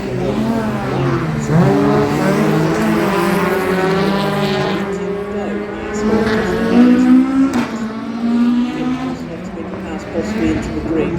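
Ford Escort rally cars race close together through a dirt section on a senior stage of the 2025 International McRae Rally Challenge, their engines rising and falling through revs with gear changes, under continuous commentary.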